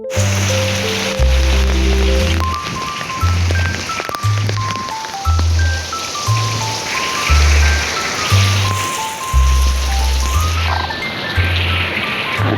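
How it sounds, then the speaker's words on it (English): Rain falling steadily as heard from a terrace, a soft continuous hiss under louder melodic background music with a thumping beat. "it started raining and the weather was actually really good"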